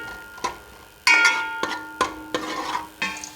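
Chopped onion frying in a pan as the base of a green chicken karahi, while a spoon stirs it: sharp, close clanks at irregular intervals over a light sizzle.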